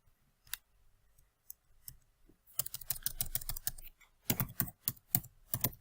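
Typing on a computer keyboard while renaming a file, starting with a few scattered quiet clicks and then a quick burst of close, crisp keystrokes in uneven clusters, with no talking.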